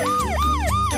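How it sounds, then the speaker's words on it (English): An ambulance siren wailing close and loud in a repeating rising-and-falling cycle, about three sweeps in quick succession. "It's only an ambulance."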